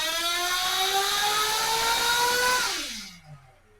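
High-revving small nitro engine with an OS 2090/2100 tuned pipe set-up screams steadily on a dyno pull, loud and close, with harmonics climbing slightly before the engine cuts off and winds down near the end.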